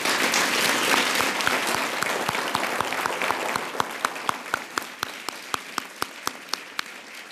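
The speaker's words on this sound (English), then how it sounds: "first I think we should give the debaters and ourselves a round of applause" Audience applause after a debate on hydrofracking, starting as a thick wash of clapping and thinning into a few distinct, evenly spaced claps as it dies away.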